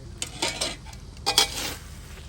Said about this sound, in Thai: เติมน้ำลงไป